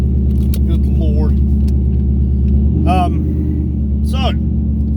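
A car with new catless longtube headers idling loudly after a cold start, a deep, steady exhaust rumble throughout with a slight shift in tone midway, and someone talking briefly over it.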